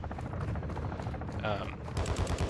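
Gunshots in a Call of Duty-style battle royale match at Al Mazrah, rapid cracks and bursts of fire over dense game noise, ending in a louder flurry of shots.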